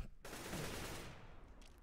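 Rapid automatic gunfire from a CS:GO competitive match, a dense sustained burst of shots that fills most of the moment before cutting off, with faint game sounds trailing after.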